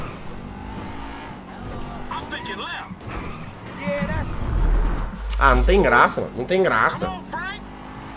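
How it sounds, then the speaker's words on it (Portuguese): Car in GTA V skidding and crashing, tyre squeals and impact bursts rising in the second half under excited Portuguese talk from a player. "O negócio é derrapar e bater o carro"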